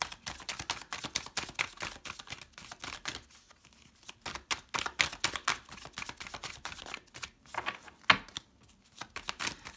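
Tarot cards being shuffled, handled and laid out, giving a rapid run of close, crisp flicks, snaps and taps in uneven bursts, with short pauses between handfuls.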